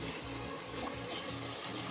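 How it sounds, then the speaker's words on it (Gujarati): Hot water pours steadily into a simmering pan of eggplant and potato curry, a continuous splashing, bubbling wash close by with no voices. "પાણી ગરમ થઈ ગયું છે, આપણે શાકમાં એડ કરી દઈશું"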